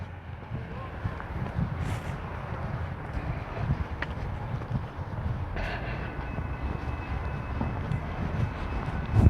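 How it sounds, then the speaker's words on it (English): A Metro Rail train rumbles steadily at a distance on Christmas Day, a low continuous roar holding for several seconds beneath faint background sounds. "I hear a train."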